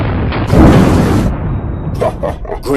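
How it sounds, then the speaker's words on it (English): Gunshots fired into a Bible, a loud booming blast followed by a rumbling tail and a few sharper pops near the end. "Great shooting, Nisu."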